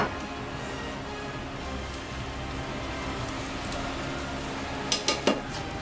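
Cremini mushrooms go into a pan on an outdoor induction cooktop and are stirred, with steady low kitchen noise and a few clinks of utensil against the pan near the end.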